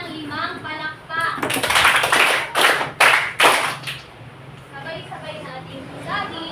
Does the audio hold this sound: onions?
no